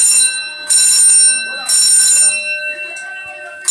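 Fire alarm ringing indoors in a home, loud piercing electronic tone sounding in two long bursts with a short gap, then dropping away as a faint voice and room sounds follow.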